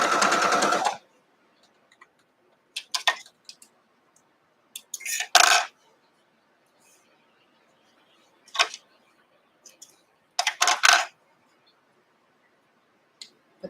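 A sewing machine stitches pieces of a gift box bow quilt block in several short, separate bursts, each lasting a second or less, with quiet pauses between runs.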